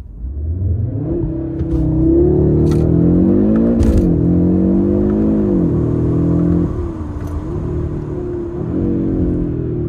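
A 2022 Audi RS3 sedan with its 400 hp five-cylinder engine and dual-clutch gearbox accelerates hard from 0 to 100 km/h, a loud, steady rising engine drone broken by quick gear changes and resuming climbs, heard from inside the car.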